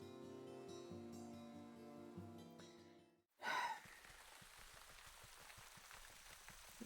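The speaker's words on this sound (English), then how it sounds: "It's raining." Rain falls in the game Wytchwood as a soft, continuous patter of scattered drops that starts after a sudden cut from tonal music and a brief sharp burst, then stays faint and even.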